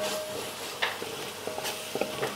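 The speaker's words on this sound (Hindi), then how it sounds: "इस मेथी को भी हम इसी के साथ भून लेंगे।" Dried fenugreek leaves (kasuri methi) roast in a pan, a faint soft sizzle with a few light stirring scrapes, brief and close.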